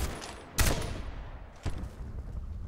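Gunfire in the online shooter Black Squad, two sharp bursts of shots about a second apart, loud and near, over a low rumble of game background.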